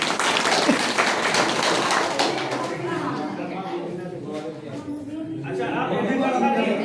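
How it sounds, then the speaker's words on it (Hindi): A village assembly gathered for a traditional Padha self-government gram sabha election claps loudly and steadily, a dense crowd of hands sustained throughout, with voices mixed into the applause. "लगे उमर ताली जोरदार कीजिए।"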